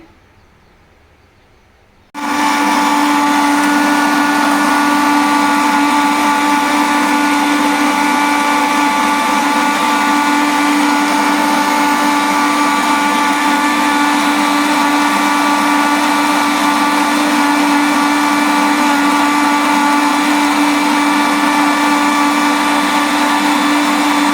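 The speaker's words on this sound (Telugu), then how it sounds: "మిక్సీ పడుతున్నానండి" A mixer grinder blending watermelon juice with sugar starts after a brief silence and then runs as a loud, steady motor whine with a constant pitch to the end.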